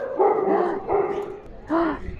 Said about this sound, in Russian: Здесь очень много собак.